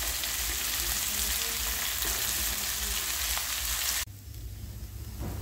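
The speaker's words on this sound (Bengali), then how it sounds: "আজকে আর আলু দিইনি, অনেকটা উচ্ছে বলে শুধুই উচ্ছে ভাজা করছি।" Bitter gourd slices frying in a pan of hot oil, a steady close sizzle that cuts off abruptly near the end and leaves a quieter low hum.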